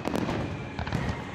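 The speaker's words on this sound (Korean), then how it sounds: "역시 피날레는 불꽃놀이." Fireworks crackle and pop in a quick, dense flurry at a spring parade finale in Menton on the French Riviera, heard at a distance and fairly faint.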